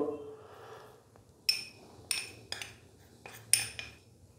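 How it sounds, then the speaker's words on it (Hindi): A spoon clinks against a bowl while cornflour is stirred into melted ghee, giving about six sharp metallic taps at uneven intervals over a quiet background. "कॉर्नफ्लोर डालने के बाद अच्छे से हम इसको मिक्स करेंगे ताकि इसके अंदर कोई भी गुठली ना रहे"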